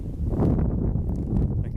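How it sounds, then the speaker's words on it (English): Wind buffeting the microphone at the top of Grand Pass, a high mountain pass in Olympic National Park, a steady low roaring rush with gusty swells throughout, loud and close, with no talking. "Like most passes, it's very windy."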